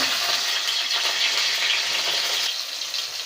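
Tomato fries in hot oil in a wok, giving a steady, close hissing sizzle that fades slightly toward the end, with no voices.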